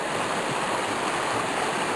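A small brook flows steadily beside a foggy stone wall, a constant broadband rush of water, close and even, with no voices.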